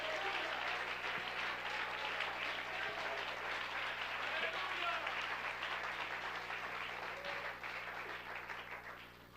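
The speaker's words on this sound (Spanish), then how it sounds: "Alguien aplauda el nombre del Rey." A church congregation claps in steady, dense applause that fills the whole stretch, with voices mixed in and a gradual slight fade near the end.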